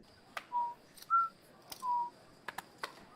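Someone whistles three short, quiet notes at a steady pitch, spaced apart and separated by soft clicks and taps in an otherwise calm room.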